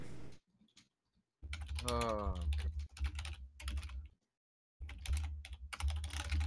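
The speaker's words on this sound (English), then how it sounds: "Sorry for the typing sounds." Computer keyboard typing during an online tabletop role-playing session, soft key clicks scattered under and between voices that talk over it.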